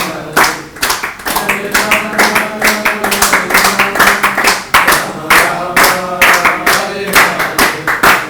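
Rhythmic hand clapping accompanying devotional Hare Krishna chanting, loud and close with sharp regular claps over sung voices throughout.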